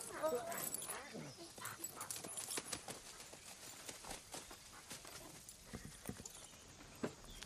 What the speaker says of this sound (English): Mr. Stonecipher, would you please shut these goddamn dogs up?